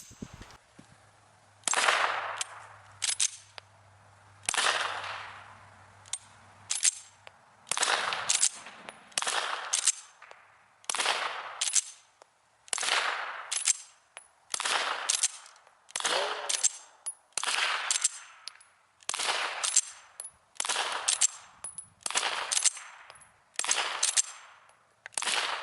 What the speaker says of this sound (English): Let's put on the suppressor and run these subs to see what type of noise reduction we get